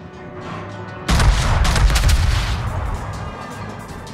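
Warship guns firing in World of Warships: a heavy booming salvo erupts after a quiet second, followed by a rumbling tail and scattered further reports, loud and close.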